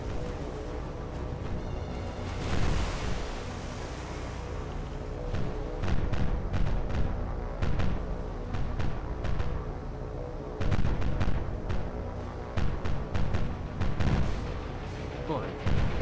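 Naval guns fire repeatedly in the War on the Sea video game during an attack on a heavy cruiser, a dense run of booms and cracks over a constant low rumble. Someone talks over part of it.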